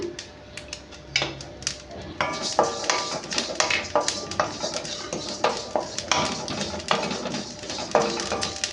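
Fennel seeds dry-roasting in a hot kadai over low flame for a mango pickle, giving a steady run of light clicks, taps and scraping clatter close by, with no talking.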